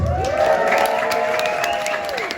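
A crowd at an Intertribal Friendship House gathering in Oakland applauds and cheers for a DJ, a steady wash of clapping under a long sustained tone that carries on throughout.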